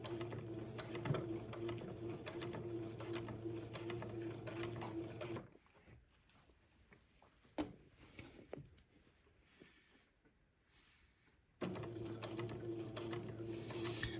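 A sewing machine stitching in the ditch along a waistband, running in a steady mechanical whir, then pausing for several seconds of faint handling clicks before starting up again at the same close, even pace.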